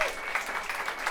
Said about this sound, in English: Please, a round of applause for the beautiful and wonderful Andrea Lemieux.